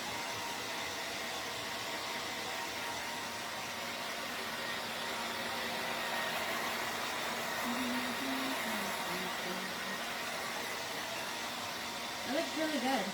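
A hair dryer blows steadily on a craft project, a loud, continuous airy roar lasting the whole stretch, with a voice briefly over it near the end.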